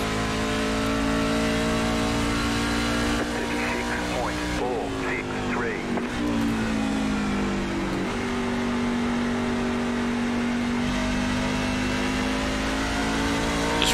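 A NASCAR truck engine in the iRacing sim drones and revs at high pitch around WWT Raceway at Gateway, holding steady, then dipping and climbing again through a shift, loud and continuous, with no speech over it.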